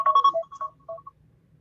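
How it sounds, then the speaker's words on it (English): A phone alarm rings with a short, bright electronic melody of a few rising and falling tones. It is fairly close and heard alone, with quiet room noise between the notes. "that was my alarm"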